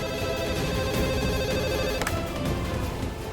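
In a Hindi TV drama, an office cabin telephone in a hotel rings steadily under a dense background of music or ambience, the ringing tone holding through the whole stretch without pause.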